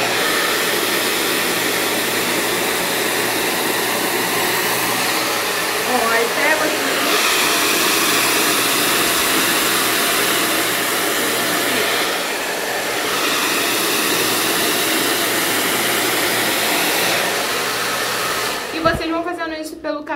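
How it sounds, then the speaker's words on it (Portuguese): A hair dryer blows continuously at close range as hair is dried and styled with a brush, its steady loud whoosh shifting slightly as it moves, then cutting off near the end. "Essa é a forma que eu seco meu cabelo e ele fica perfeito."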